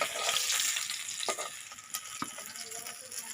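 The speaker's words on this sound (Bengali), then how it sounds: "হয়ে গেছে, মাছ ভাজা" Fish frying in hot oil on a stove, a dense steady sizzle close up with occasional spatters and stirring clicks, loudest at the start and settling slightly.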